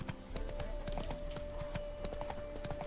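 Hooves of the horse Roach clip-clop at a brisk gallop in The Witcher 3: Wild Hunt, a steady rhythmic beat of in-game footfalls running under a faint tonal music line, with an occasional snort.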